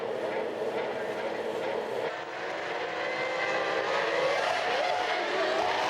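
Formula 1 cars from 1999 scream away at the race start, a high, continuous engine wail rising and overlapping from several cars, heard at a distance under a commentator's voice.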